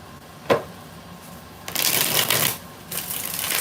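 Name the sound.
shuffling cards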